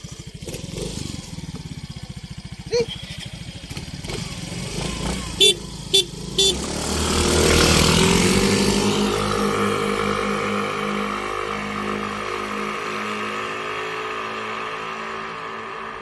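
Two stock and modified Yamaha Mio i125s scooters rev hard and pull away in a drag run, engine notes rising and sweeping up loudly with brief horn toots, then fading into a steady drone while people talk nearby.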